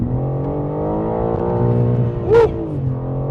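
A 2025 BMW M4 Competition engine drones loud and steady from the cabin, then flares into a brief sharp rev before settling back.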